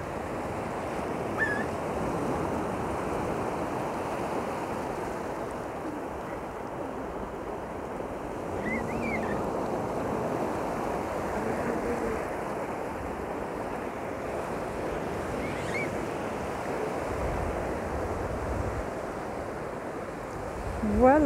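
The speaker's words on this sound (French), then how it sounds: "Je vais vous montrer un petit peu les vagues qui viennent se jeter contre la jetée." Sea waves break against a stone jetty in a continuous rolling wash of surf, steady and fairly loud, with wind buffeting the microphone and a faint voice now and then.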